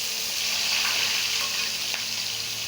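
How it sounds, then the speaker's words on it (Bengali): Onions frying in hot oil with dried red chillies and whole spices for a potato and fish curry, a loud, steady close-up sizzle with faint stirring scrapes, no voices. "পেঁয়াজটাও আমি লাল লাল করে ভেজে নেব, সোনালি রং ধরা পর্যন্ত একটু"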